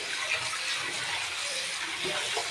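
Tap water runs steadily while chicken meat is washed in a kitchen, a continuous close rushing splash with slight fluctuations and no talking.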